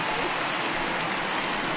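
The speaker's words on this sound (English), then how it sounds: "the conditions aren't ideal with the rain coming down" Rain pours down steadily during a baseball game in MLB 19 The Show, a dense, even hiss close around the listener with no breaks.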